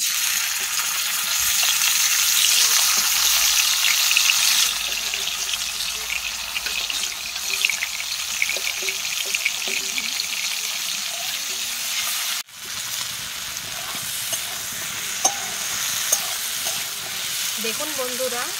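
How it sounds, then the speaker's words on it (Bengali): Prawns frying in hot oil in a wok, a steady loud sizzle with scraping stirs and clinks over the whole stretch, dropping briefly near the end before the frying resumes. "দিয়ে চিংড়ি মাছগুলোকে ভেজে নিচ্ছি"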